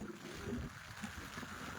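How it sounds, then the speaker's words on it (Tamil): Strong wind gusting at a seashore, a steady broad roar with buffeting rumble against the microphone throughout. "காற்று கொடையை தூக்குற அளவுக்கு அடிக்குது"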